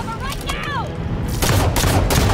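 Gunfire in the video game Halo 5 Guardians erupts in a loud cluster of shots in the second half, after a quieter stretch of game sound effects with whooshing tones.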